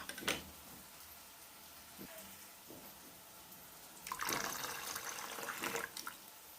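Water pours and splashes in a quiet room, faint at first with a few soft knocks, then a louder sustained gush toward the end.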